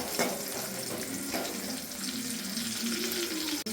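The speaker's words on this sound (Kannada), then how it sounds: "ಒಂದು ಬಾಣಲೆಗೆ ಒಂದು ಸ್ವಲ್ಪ ಎಣ್ಣೆ, ಒಂದು ಈರುಳ್ಳಿ ಹಾಕೊಂಡು ಫ್ರೈ ಮಾಡ್ಕೋಬೇಕು" Onion frying in a little oil in a wok for chilli chicken gravy, a brief, dense, even sizzle heard up close with no voices.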